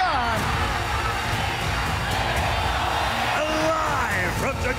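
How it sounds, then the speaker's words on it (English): A large crowd roars inside the Istora Senayan arena in Jakarta at a martial arts event. The noise is a loud, continuous wall of cheering and yelling with a few whoops rising above it. "This crowd making huge noise inside the stalled out Istora Senayan"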